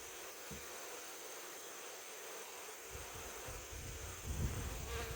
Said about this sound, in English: They're nice and calm bees.